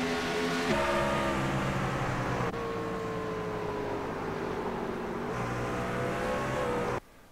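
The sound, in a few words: racing trucks on track, New Hampshire truck race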